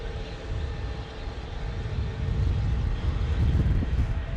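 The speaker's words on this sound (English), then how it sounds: "We got an A321neo spooling up right in front of us" An Airbus A321neo jet engine spools up at Phoenix Sky Harbor Airport, a low broad roar that swells and grows louder toward the end, with wind noise mixed in.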